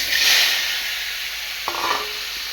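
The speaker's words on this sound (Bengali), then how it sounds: "মাছ ভাজা করব তো চলো মাছটাকে দিয়ে দিই" Fish frying in a hot pan gives a steady hiss of sizzling oil, loudest at the start, with a few soft clinks and scrapes of a utensil near the end.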